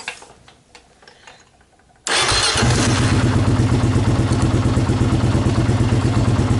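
Kawasaki KLR 650 with a Mikuni carburetor fires up after a quiet, faintly rattling start, then settles into a loud, close, steady low idle during air-fuel mixture tuning.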